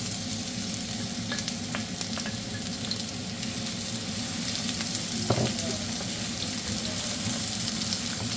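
Chopped onions sizzle steadily in a pan for Bengali-style mustard chicken, a close, even frying hiss with occasional light clinks and no talking.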